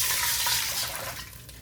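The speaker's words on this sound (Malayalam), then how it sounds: "അപ്പോൾ നമുക്ക് അതിനാവശ്യമായിട്ടുള്ള വെള്ളം ഇതിലേക്ക് ആഡ് ചെയ്ത് കൊടുക്കണം." Water pours steadily into a pot holding rice for chicken mandi, a close, continuous rushing splash that eases off near the end of the short burst.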